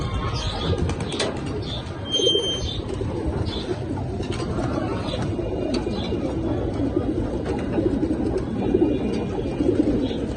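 A flock of pigeons coos continuously at close range, with wings flapping and occasional chirps over a dense, steady murmur.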